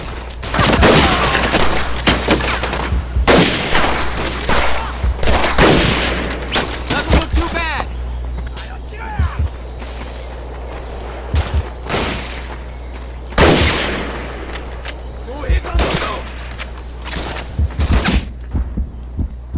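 Loud automatic gunfire and explosive booms in the World War II shooter Medal of Honor Pacific Assault, with heavy bursts clustered early, scattered shots and blasts later, and a low steady drone underneath.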